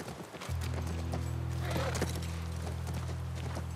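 Horse hooves clip-clop at a walk in The Last of Us Part I, a steady loud rhythm over a droning game ambience, with a brief whinny-like tone.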